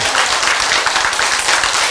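Loud, dense clapping from an audience at a health lecture, a close, continuous roar of hands filling the short stretch without a pause.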